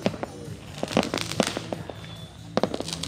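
Lunar New Year's Eve fireworks over the Vietnamese countryside, mostly military-made shells, boom and pop in irregular bursts at a middle distance, with crackling tails between the louder blasts.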